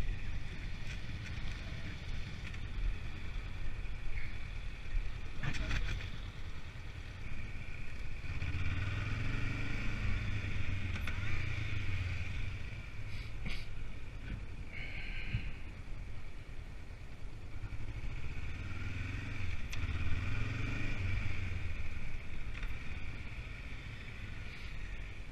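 A motorcycle used for A2 licence training idles to warm up, giving a steady low engine rumble throughout with some wind noise and slight swells in pitch.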